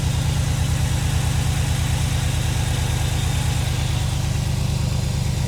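A 2008 Chevy Silverado 1500 engine idles steadily up close after a water pump replacement and overheating repair, its accessory belt spinning with a constant low rhythmic pulse and mechanical whir, with no talking.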